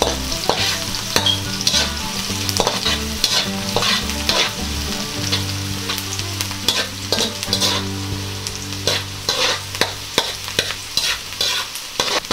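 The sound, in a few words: stirring onions frying in a pan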